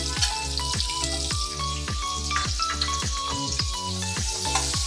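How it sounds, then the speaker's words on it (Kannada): Onions hit hot oil seasoned with mustard seeds and cumin and fry with a steady crackling sizzle and scattered pops, close and fairly loud throughout, with no talking. "ಇದಕ್ಕೆ ಹಾಗೆನೆ ಈರುಳ್ಳಿ ಹಾಕೊಳ್ತಾ ಇದ್ದೀನಿ."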